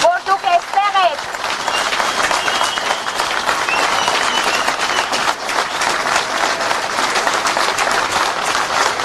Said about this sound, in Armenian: Ես ուզում եմ այս պահին բոլորս մի հատ շատ բարձր ծափահարենք